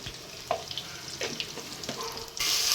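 Ginger garlic paste frying in a pan with onion, green chili and mint for a chicken wing pulao. A soft, steady sizzle runs throughout with light stirring scrapes, and the hiss swells louder near the end.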